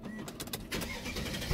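A Mercedes SLK55 AMG starting up, with a brief cranking whir and then the engine catching into a steady idle, recorded close by with no talking.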